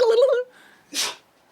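A single short, sharp sneeze bursts out close to the microphone during a podcast recording, just after a brief stretch of talk.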